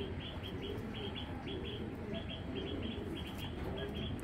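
Frightened red checker racing pigeons give repeated soft coos and short calls close by, over a constant low background rumble.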